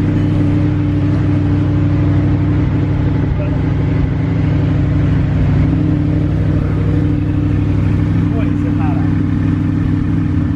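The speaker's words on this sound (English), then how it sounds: "First drive in the Salvage Auction R8." Engine of a salvage-auction Audi R8 running on its first drive, a loud, steady low drone close by with little change in pitch, while someone talks over it.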